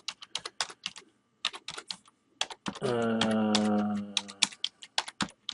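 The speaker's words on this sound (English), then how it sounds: "I'm just going to type in some numbers." Numbers tapped on a computer keyboard, a run of quick, crisp key clicks in uneven bursts at close range, with a brief pause and a voice cutting in partway through.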